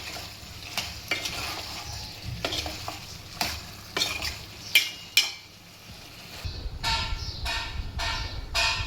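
Chicken liver coated in chili powder fries in a pan, a steady sizzle broken by repeated sharp scrapes and clinks of a spoon stirring, louder bursts of frying near the end.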